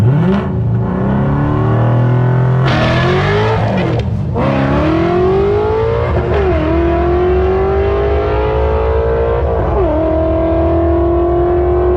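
A Ford Shelby GT500 launches down a drag strip with a loud, close engine roar rising through several gear shifts, each marked by a brief dip before revving again, with a touch of wheelspin and no talk.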